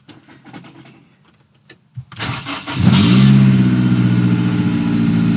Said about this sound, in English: Anxious to see how this exhaust sounds.